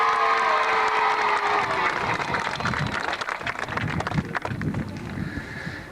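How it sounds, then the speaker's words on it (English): A crowd at an outdoor swimming event gives a big, sustained cheer with applause and shouting, loud and continuous, slowly thinning toward the end. "give yourselves a great big cheer for that"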